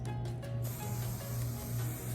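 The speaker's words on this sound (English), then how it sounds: "I'm gonna go ahead and spray some so you guys can see" A steady, close hiss of hair spray misted onto hair extensions, running continuously for a couple of seconds with no talking.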